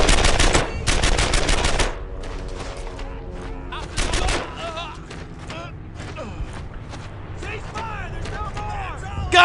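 Bursts of automatic gunfire from the World War II shooter Brothers in Arms: Earned in Blood, with loud volleys at the start and around four seconds, then lighter scattered shots under shouted soldier voices.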